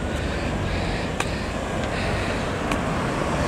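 Steady roar of traffic on a busy main road around lunchtime, a continuous wash of passing vehicles with a couple of brief louder whooshes, moderately near and with no talking.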